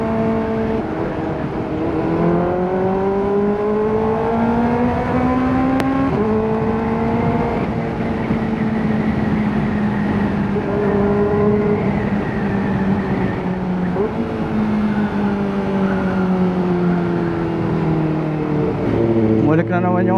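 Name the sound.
Kawasaki ZX4RR motorcycle engine revving with throttle noise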